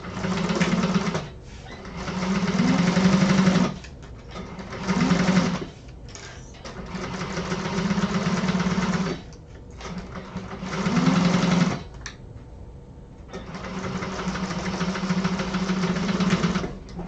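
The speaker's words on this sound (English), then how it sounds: "And now it's time to top stitch these." Sewing machine top stitching an apothecary bag exterior in a sewing class, loud steady whirring runs in several bursts of a few seconds each, separated by short pauses, close and alone.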